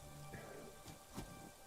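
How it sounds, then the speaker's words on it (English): Rain falling, heard as a soft, steady patter with a couple of brief louder splashes, faint and close, mixed with low background sound and no talking. "It's rain. There's music and water."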